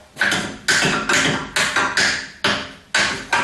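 An oil filter wrench is tapped onto an oil filter in about seven sharp, close, loud knocks at a steady pace, each with a short ringing decay. No talking is heard.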